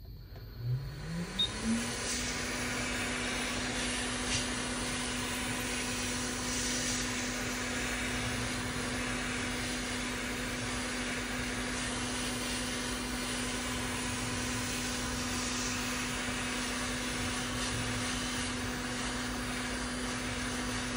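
A heat gun runs continuously while heating the back cover of an iPhone 16 Pro, a loud steady whooshing blower roar with a fixed tonal whine that rises in pitch as it spins up, then holds unchanged.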